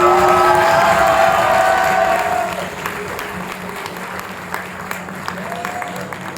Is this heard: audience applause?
yes